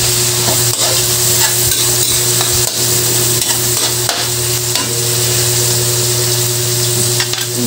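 Shrimp, squid, mussels and crab stir-fry in butter with chili and dried fish in a pan, giving a continuous loud sizzle broken by repeated scraping stirs.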